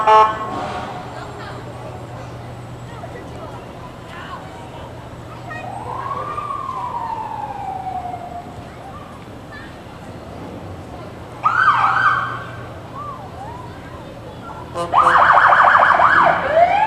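At a Fergus Falls, Minnesota summer fest parade, a fire department quick response vehicle for grass fires gives a brief siren wail and later short loud electronic yelps and blasts, over crowd noise and a man announcing on a loudspeaker.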